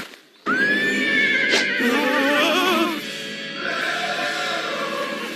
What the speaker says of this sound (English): Didn't know Freddy had a horse.